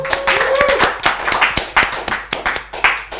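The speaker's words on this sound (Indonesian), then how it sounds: "Tepuk tangan sekali lagi buat Babay." Audience applause on an Indonesian podcast set, a burst of claps with sharp hand strikes, close and fairly loud, with a voice briefly audible over it.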